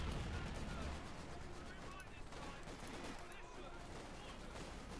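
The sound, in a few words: heavy gunfire, from video game Company of Heroes 2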